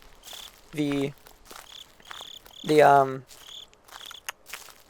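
Crickets chirp in the night-time ambience of the Slender: The Eight Pages video game, a steady rapid pulsing that runs throughout while someone talks over it in two short bursts.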